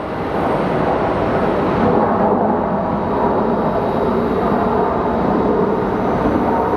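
Airliner in Spirit of Canada livery at Phoenix Sky Harbor Airport, a continuous, loud jet engine roar with a broad wash of noise that stays steady throughout.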